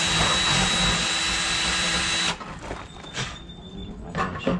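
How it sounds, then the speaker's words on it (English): Power drill boring a pilot hole in a countertop during a cargo trailer sink install, a loud steady whirring whine that cuts off abruptly after about two seconds, followed by quieter scraping and handling noises. "the first thing I'm going to do is drill a pilot hole so that I can run the jigsaw blade down in there"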